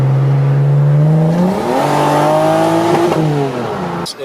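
A Toyota Supra's naturally aspirated engine revs loudly up and down through an aftermarket 4.5-inch to 2.5-inch exhaust, the note climbing, holding, then falling off before a short crackle at the end.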